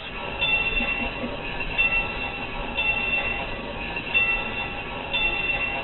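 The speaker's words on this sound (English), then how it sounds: "I guess a nickel's worth of railroad crossing." A steady mechanical clanging and rumbling drone runs continuously at close range from a coin-operated model railroad crossing signal in an antique mall, running without pause.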